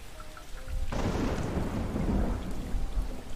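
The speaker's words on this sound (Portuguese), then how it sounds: "The tank has these tropical storms 5 times a day." A simulated tropical thunderstorm in a home aquarium ecosystem tank: a loud thunder crack breaks in and gives way to a dense, sustained roar of heavy rain, with no voices.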